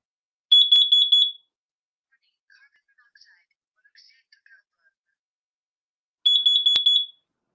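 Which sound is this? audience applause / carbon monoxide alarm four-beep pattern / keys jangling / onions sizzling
carbon monoxide alarm four-beep pattern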